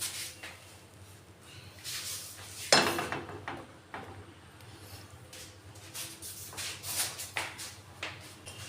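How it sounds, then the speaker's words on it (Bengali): A metal cake tin for an eggless fruit cake is set into a preheated kadai, giving one sharp, close metallic clank amid faint kitchen clatter and shuffling. "এর মধ্যে আমি কেক টিনটা দিয়ে দেব।"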